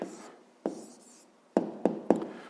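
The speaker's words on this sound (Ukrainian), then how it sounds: "Пишемо відповідь." Pen strokes scratch across paper as an answer to a fifth-grade maths exercise is written out by hand: a few short, quiet, close scrapes and taps at an uneven rhythm.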